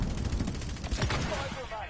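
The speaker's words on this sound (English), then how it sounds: "Watch me shoot." Rapid gunfire in the Warzone video game crackles in quick bursts over two seconds, with excited talk in the background.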